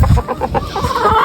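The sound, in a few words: hens clucking on a farm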